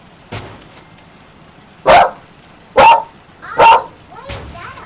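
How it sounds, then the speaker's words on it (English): A dog barks indoors in a house, fairly close. There are three loud barks in a steady rhythm, framed by fainter yips, with some room noise in the background. "I don't need that barking."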